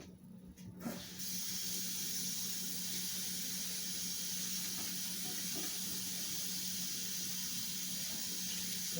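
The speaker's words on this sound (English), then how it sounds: "Rinse them in warm water so it's the same as your mouth." Warm tap water runs steadily over a bottom denture being rinsed, a constant close hiss of flowing water after a brief uneven start, with no voices.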